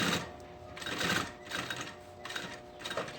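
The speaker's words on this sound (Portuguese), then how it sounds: "Tenta vir passando a costura no mesmo rumo da costura que você prendeu" Sewing machine stitching a seam on a backpack panel, a close rapid mechanical whir that rises and stops in short runs, about three bursts with brief pauses between them.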